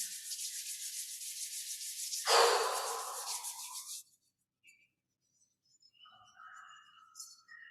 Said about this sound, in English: Rubbing the palms together again, and maybe even a little massage to the hands again.